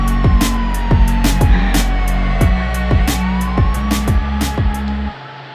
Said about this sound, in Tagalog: Meron ng ambulansya